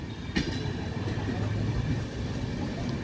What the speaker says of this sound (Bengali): Down Visva Bharati intercity express is moving towards Howrah railway junction.